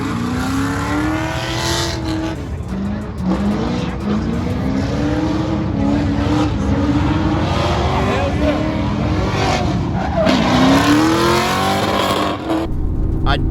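A Camaro fitted with a Blu808 drift angle kit driving on the street, its engine droning steadily with rising and falling revs throughout, loud and close, with talking over it.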